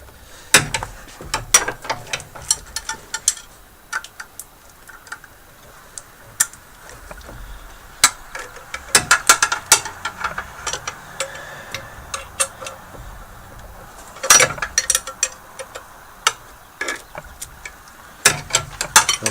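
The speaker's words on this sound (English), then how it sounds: "A long 15 millimeter wrench like this really helps." A long 15 mm wrench works loose a bolt on a car during repairs, giving sharp metallic clicks and ratcheting ticks in uneven bursts over a quiet background, close up and with no talk.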